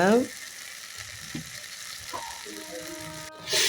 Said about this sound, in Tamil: எண்ணெய் விட்டு கடுகு உளுத்தம் பருப்பு போட்டு அரைச்ச சட்னியை விட்டு நல்லா வதக்கிக்கணுங்க